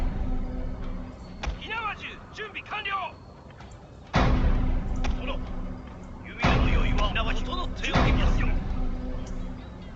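Musket volleys from a line of troops in Shogun 2: Total War, bursts of massed gunfire crashing in at several points, loud and dense, with someone talking over the battle noise.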